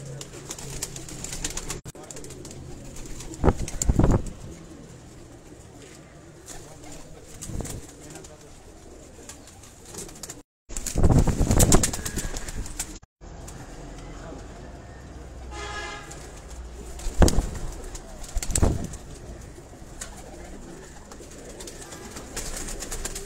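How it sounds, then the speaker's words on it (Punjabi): Champion pigeons coo in repeated bursts, the low throaty calls rising and fading over a steady background with a few louder thumps and brief dropouts. "ਆ ਜੀ ਚੈਂਪੀਅਨ ਕਬੂਤਰ ਹੈ ਜੀ ਇਹਨਾਂ ਦਾ"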